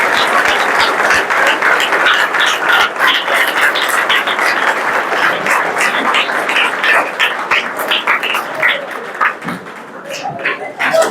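Schoolchildren clapping to welcome a guest at a helmet-safety gathering, a dense, lively burst of many small hands that thins and falters near the end, with voices chattering underneath.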